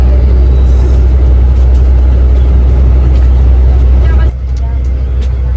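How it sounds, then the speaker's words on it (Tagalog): A Victory Liner bus pulls away, its deep engine rumble loud and close throughout, then the low drone drops off abruptly near the end. "Alis na yung bus."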